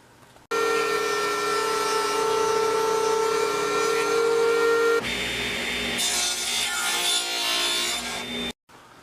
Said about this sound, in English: we'll fire up the planer